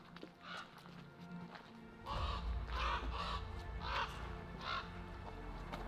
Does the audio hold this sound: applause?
no